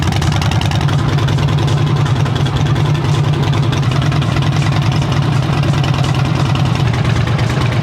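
A Harley-Davidson Street Bob FXDB motorcycle engine idles steadily and loudly up close, its low rhythmic V-twin rumble continuous and uninterrupted.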